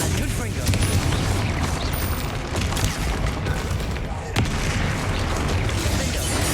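A Confringo fire spell explodes in Hogwarts Legacy, its booming blast heavy and continuous amid dense combat noise, with a sharp crack near the end.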